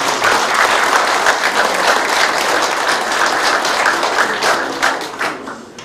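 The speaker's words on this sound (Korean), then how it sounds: "박수로서 화답을 주시면" A crowd applauds at a mayoral candidate's campaign office opening, sustained and loud, many hands clapping evenly for several seconds before easing off at the close.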